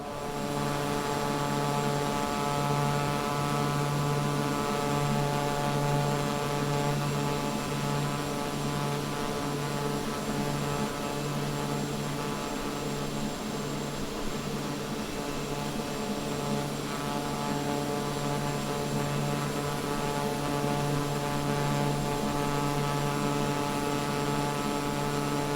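A PC-12 single-engine turboprop in cruising flight at altitude in Microsoft Flight Simulator 2024 gives a steady, unbroken engine drone with a constant hum and propeller tone throughout, heard from outside the aircraft.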